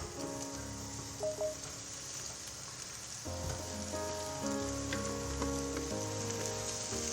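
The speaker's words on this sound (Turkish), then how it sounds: "Üzerine arkadaşlar yeşil fasulyemi ekliyorum" Green beans land in a hot pan with cooking egg, and a quiet crackle swells into a louder, denser sizzle with steady popping and hissing partway through.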